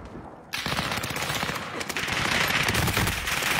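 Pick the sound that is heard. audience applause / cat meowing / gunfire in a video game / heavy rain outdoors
gunfire in a video game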